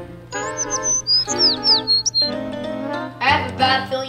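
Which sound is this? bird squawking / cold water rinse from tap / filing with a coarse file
bird squawking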